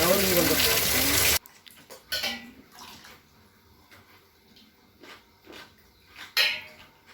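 Heavy rain pours down in a loud, dense hiss for the first second and a half, then cuts off abruptly, leaving a quieter scene with a few soft bumps and a voice talking.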